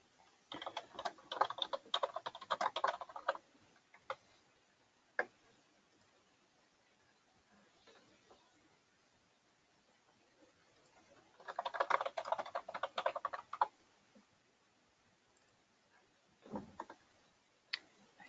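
Bursts of rapid typing on a computer keyboard during an office accounting software session, two long clattering runs separated by quiet stretches with a few isolated key taps, close and clear with no talking.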